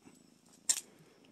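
A cat purrs softly nearby in a faint, low rhythmic rumble, broken briefly by a sharp noisy rustle partway through.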